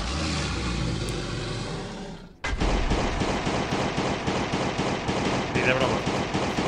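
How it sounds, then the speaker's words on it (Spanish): Rapid pistol gunshots in the survival video game Last Day on Earth: Survival, a dense burst of repeated shots after a brief gap, loud and continuous. "Me ahorro 15 disparos de pistola."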